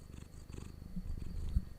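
A cat purrs close by, a low, soft, continuous rumbling throb that swells slightly near the end, with outdoor night ambience faintly underneath.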